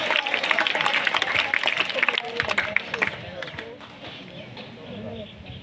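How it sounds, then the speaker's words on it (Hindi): A quiz show audience breaks into applause after a correct answer, dense clapping for about three seconds that then thins out and fades into a murmur of crowd noise. "भरपूर तालियां।"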